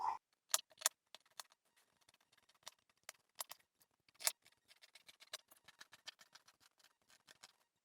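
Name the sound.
scissors cutting out a paper dress pattern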